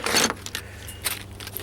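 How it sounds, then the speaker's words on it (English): A set of Allen keys from a mechanic socket tool kit clinks and jangles in a few short metallic bursts as it is handled close up, with no talk. "You have some Allen keys here"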